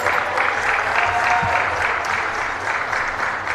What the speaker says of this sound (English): let's give another round of applause to this year's Averett men's basketball senior class